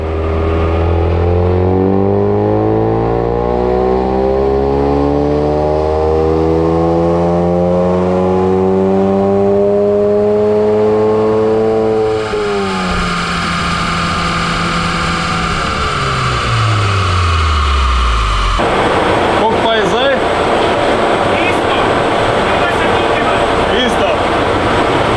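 Ford Focus RS engine at full throttle on a dyno in third gear, rising steadily from low revs to a loud peak before snapping off, then sustained high engine noise with a harsh, rough edge to the end.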